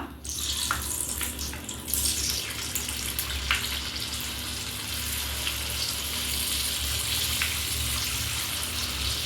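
A continuous hissing sizzle of unniyappam batter frying in hot ghee, loud and close, with occasional crackles and pops throughout.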